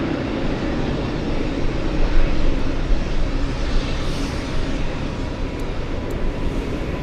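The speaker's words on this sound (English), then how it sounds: "Yeah, okay, so I think we have another arrival on runway 27." Airliner arriving on runway 27 at Boston Logan, a steady broadband jet roar holding at moderate loudness throughout, with no speech over it.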